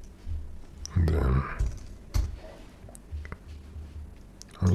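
Scattered clicks of typing on a computer keyboard while coding in Java, quiet and irregular, with a few louder knocks and soft breathy voice sounds in the background.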